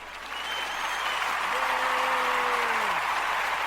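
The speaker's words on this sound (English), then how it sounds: "Where's our round of applause button?" A canned round-of-applause effect fires from a sound button, clapping building over the first second into a sustained crowd ovation, while a voice briefly speaks over the middle.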